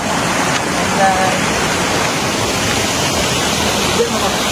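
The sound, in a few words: waterfall at Bolinao Falls, Pangasinan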